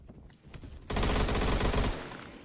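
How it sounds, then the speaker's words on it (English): Automatic M16 rifle fire in the online shooter game Phantom Forces, one loud sustained burst of about a second after quieter background game noise, then fading. "I'm gonna rock the new M16. This is a new gun they recently added."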